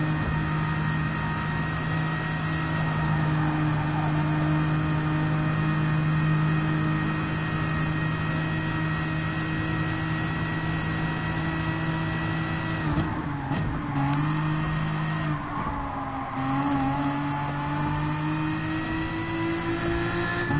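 A race car engine in a PS4 racing game holds a loud, steady high-revving drone, shifting pitch briefly mid-way as the car changes speed, with no talk over it.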